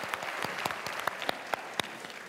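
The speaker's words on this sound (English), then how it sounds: "Let's give Sammy a round of applause" A small audience claps for a dog on stage, scattered distinct claps at an uneven rhythm, fairly faint and heard without talk.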